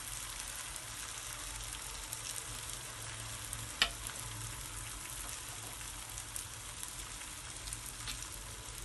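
Patishapta pitha batter cooks in a hot pan, giving a steady, fairly quiet sizzle that runs throughout, with a single soft click partway through and no voices.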